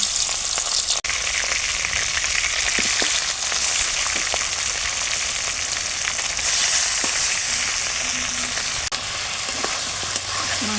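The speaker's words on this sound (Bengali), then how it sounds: "মাংসগুলো ভাজা হয়ে গেছে" Turmeric and salt coated chicken pieces frying in hot oil, a loud, dense, continuous sizzle close by with occasional pops and spatula knocks, no talking.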